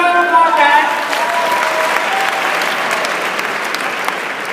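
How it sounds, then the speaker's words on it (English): A convention crowd in Las Vegas claps loudly and steadily, a dense wash of applause that holds for several seconds with little change. "Give it another applause, guys."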